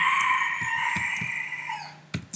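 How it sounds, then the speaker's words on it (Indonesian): A rooster crows outdoors, a single long, strained call that holds steady then fades, with a few sharp clucks and knocks around it, moderately close and with no speech. "Memang saya memiliki ayam KT di luar, jadi suara kokoknya sampai mungkin kedengaran oleh rekan-rekan sekalian."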